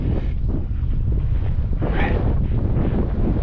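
Strong wind gusts across an open mountainside, roaring loudly and continuously against the microphone with no other sounds.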